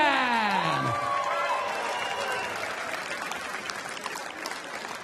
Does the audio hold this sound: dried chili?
no